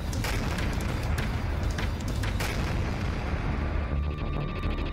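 A heavy explosion from a UR-77 Meteorit mine-clearing charge booms and rolls on, a dense roaring blast with crackling debris that slowly settles.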